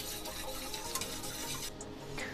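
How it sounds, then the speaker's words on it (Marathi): A hand beater whisks saffron into milk for kesar dry fruit shrikhand, giving a steady rubbing, rasping churn that runs continuously at close range, with no talking. "1 बीटरने आपल्याला हे यामध्ये मिक्स करून घ्यायचं आहे"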